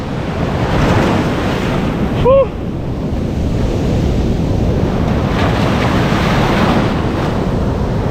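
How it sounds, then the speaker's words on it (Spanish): Ocean waves surge and break on a Rio de Janeiro beach in winter, a steady loud roar of surf with wind buffeting the microphone, briefly interrupted by a short tonal squeak. "Acá hay ese peligro que te puedes llevar la ola."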